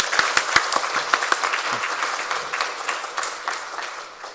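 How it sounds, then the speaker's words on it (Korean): Church congregation claps to welcome a newly registered member during a Sunday morning service, a burst of many hands with crisp individual claps at first that thins and fades near the end. "우리 박수로 환영하도록 하겠습니다."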